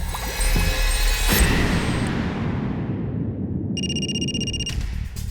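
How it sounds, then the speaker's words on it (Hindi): A loud electronic phone ringtone trills in a steady repeating pattern over a dense wash of background music and rumble, with a sharp tonal burst near the end. "सर, आशा के ससुर का फोन है।"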